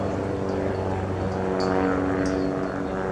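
A Starduster SA300 propeller biplane performs aerobatics, banking onto its side, its steady engine and propeller drone holding loud and continuous with a slight swell midway.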